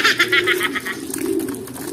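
Racing pigeons gathered at a feeder coo and flutter close by, soft rolling coos over a busy chatter of wingbeats and pecking.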